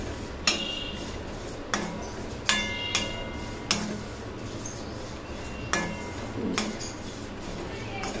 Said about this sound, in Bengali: এখন এই তিলটাকেও এটা আরো হালকা আঁচে ভেজে নিতে হবে